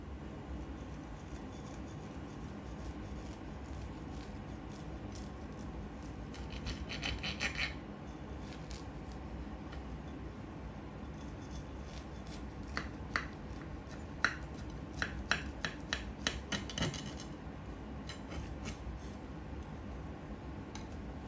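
A knife slices through freshly made kunafa topped with cream and cheese, giving soft scraping and crunching strokes that cluster into a brisk run of close, crisp scratches toward the end, with no talking.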